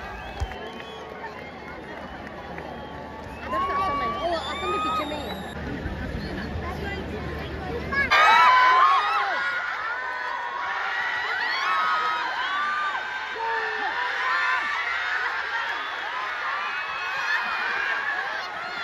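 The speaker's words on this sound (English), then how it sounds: "As you can see, there was so much crowd." A large crowd roars at a Santosh Trophy 2024 football match in Arunachal Pradesh, with whistles and shouts over a constant hubbub that surges louder midway. People talk nearby throughout.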